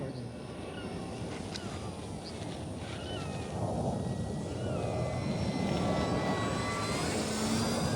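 A small 800mm flat foam 3D radio-controlled airplane flying with its electric motor, whining steadily at a distance, then swelling louder about halfway through as power is added, against outdoor background noise.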